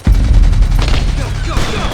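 Heavy video game gunfire from Metal Gear Solid 4 in a battle at a mansion, a dense, loud barrage of rapid shots and booms throughout, with voices shouting commands beneath it.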